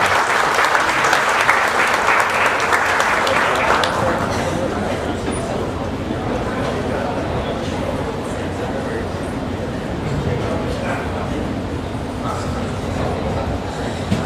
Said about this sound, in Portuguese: boa tarde e recebe a nossa salva de palmas